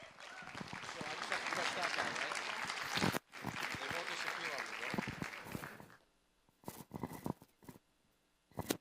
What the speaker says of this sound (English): Let's give another big round of applause to our middle school debate team.